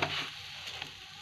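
Potato pakora batter made with gram flour and garam masala being stirred by hand in a bowl, a soft wet churning that is loudest at the start and settles into a steady low mixing sound, close and alone.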